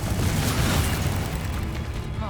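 A Confringo spell explosion in Hogwarts Legacy: one sustained, dense fiery blast that rumbles loudly for a couple of seconds, then begins to fade.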